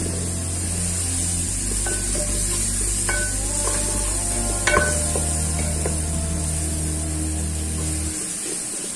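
Boneless chicken frying and being stirred in a handi with butter for chicken makhni gravy, a steady close sizzle with occasional spoon scrapes and clinks against the pot over a constant hum.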